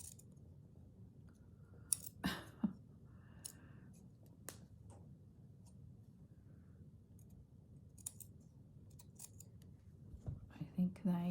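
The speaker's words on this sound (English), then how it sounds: "I think these window boxes need to be cut down." Scissors cutting down miniature window boxes for a craft village scene, several crisp, close snips and clicks spaced apart in an otherwise quiet room.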